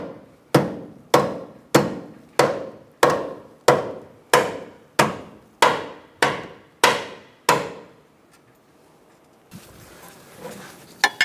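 Hammer blows drive a lower control arm bushing into a 2002-2006 Honda CR-V, a dozen sharp metallic strikes in steady rhythm, loud and close, followed by quieter shuffling.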